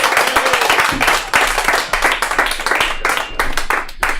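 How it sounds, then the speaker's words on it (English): Audience applause for a comedian at a live comedy show, loud close clapping from a small crowd, dense at first and thinning into scattered claps toward the end. "Give him a round of applause!"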